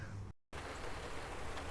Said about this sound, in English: Well, it's starting to rain